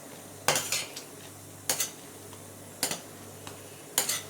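A metal spoon scrapes and taps around a small kadhai while ghee is stirred, four distinct clattering strokes spaced about a second apart over a low steady hum.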